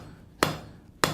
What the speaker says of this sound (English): All I'm doing is I'm hammering right on the flat of the anvil.